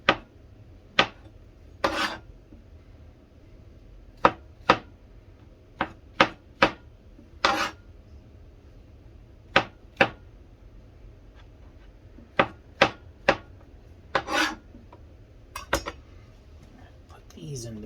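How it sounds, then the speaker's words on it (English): A knife slices through two pounds of mushrooms with sharp, irregular clicks and chops, some quick pairs and some spaced apart, set against a quiet room. "sitting here bored as I cut 2 pounds of mushrooms up."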